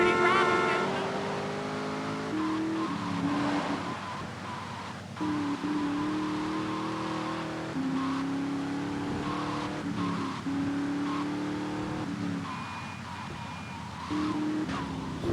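A car driven through the streets in the video game GTA 3, its engine droning steadily with bursts of revving and tire noise, loud and continuous, while a person talks over it throughout.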